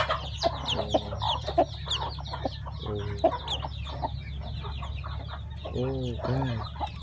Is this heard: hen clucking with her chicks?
yes